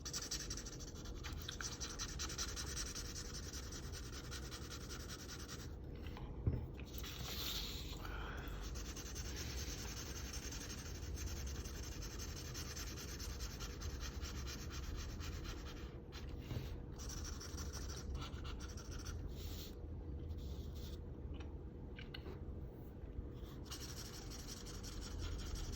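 A Vivid Pink coloured pencil scratches steadily across paper as a small bandana is filled in on a Brawl Stars character drawing, a faint continuous close-up scribbling with short pauses and no speech.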